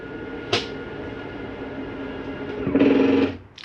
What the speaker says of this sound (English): That is just the slide mechanism telling itself not to go in any further